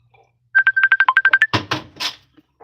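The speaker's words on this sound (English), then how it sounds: "sorry, the phone's ringing for me" A phone's electronic ringtone plays a rapid string of about a dozen short bright beeps close by, then cuts into a few brief rustling knocks during household cleaning.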